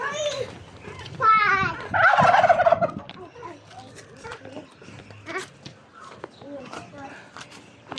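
A turkey gobbles loudly and clearly among ducks and chickens on a Philippine backyard farm, with a burst of rapid gobbling over clucking and chatter and people talking nearby.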